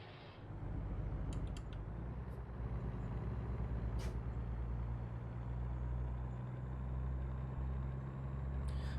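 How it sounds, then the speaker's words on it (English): In the video game American Truck Simulator, a truck's old air brake hoses hiss steadily under a low engine drone, with brief sharp squeals and bursts of air now and then, moderately loud. "One of the mods I have installed is Old Hoses Squeal and Hiss. And you hear a lot of it going on."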